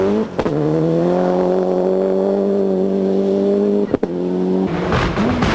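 A rally car at the 1994 Rally of New Zealand races past with a loud, sustained engine whine, broken by two brief dips like gear shifts, and the roar changes near the end.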